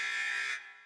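An alarm in the visual novel DRAMAtical Murder, a loud steady electronic buzzing tone that holds for about half a second and then cuts off abruptly, leaving only a faint low residue.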